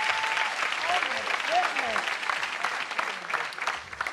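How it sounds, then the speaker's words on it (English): A theatre audience at a women's comedy and awards event claps loudly for a guest coming on stage. The applause is dense and close, with voices calling out over it. "big round of applause?"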